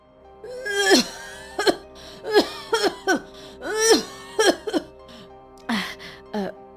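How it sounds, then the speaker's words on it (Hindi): A woman coughs repeatedly in harsh, strained bursts with wheezy, groaning breaths between them, close and fairly loud. "धनिया को जोर की खांसी होने लगी"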